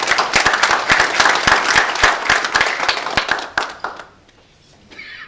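Lively applause from an audience at a Busan regional council gathering welcoming a former vice-chair, with sharp individual claps standing out in the mix before it dies away, leaving a quiet room.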